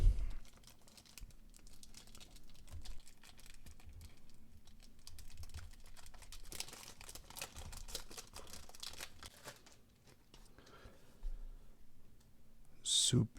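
Packaging of 1/64 scale Toyota 4Runner toy cars being torn open, a close, continuous crinkling and ripping of plastic and cardboard running throughout, with a sharper tear near the end.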